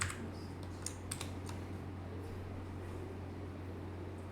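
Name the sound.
typing on a computer keyboard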